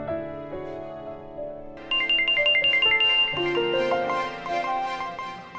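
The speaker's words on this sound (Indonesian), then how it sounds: "Papa angkat telepon dulu ya." A melodic phone ringtone plays alone, starting as soft low notes and then jumping louder into a bright, repeating tune of quick tones.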